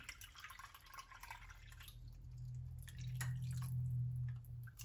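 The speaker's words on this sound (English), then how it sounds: "So we're gonna add about 2 cups of water." About two cups of water poured into a pot of beef kaldereta: a steady liquid splash and trickle that swells toward the end, close and fairly loud, with no talking.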